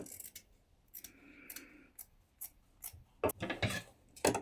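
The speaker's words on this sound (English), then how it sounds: "You may wish to trim the seam allowance a little." Scissors snipping into the seam allowance of fabric while sewing New Look 6756 wide leg trousers, a series of short crisp cuts close by, quiet and alone with no talk.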